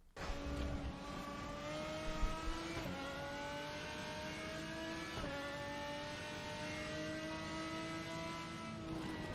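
A race car engine howls steadily on track throughout, holding a loud sustained tone with brief gear-change dips and rises, no talking.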